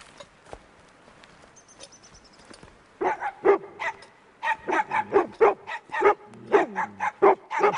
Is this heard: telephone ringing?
no